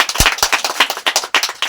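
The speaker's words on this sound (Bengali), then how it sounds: "সবাই হাততালি।" Crowd clapping at a kabaddi match in Gaighata, a close, steady round of many hands applauding in quick uneven rhythm, loud and without speech.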